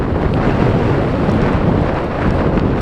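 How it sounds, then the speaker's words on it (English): Strong wind buffets the microphone outdoors near woodland at an old WWII flak position, a loud, continuous rumbling roar that covers everything else. "I hope you can hear me because of the wind."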